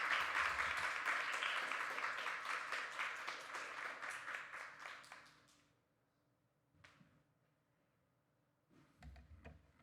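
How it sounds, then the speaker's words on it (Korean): Audience applause in a church hall welcoming a missionary back from Ethiopia, a dense, loud clapping that swells for about five seconds, then fades out, followed by a few scattered claps and brief noises. "수고하신 또 우리 선교사님을 환영하면서 우리 박수로 우리 맞이하시겠습니다."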